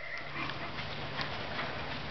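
Hooves of an American Quarter Horse gelding cantering, a soft muffled rhythmic clip-clop heard at a moderate distance over steady outdoor background noise, with no talking.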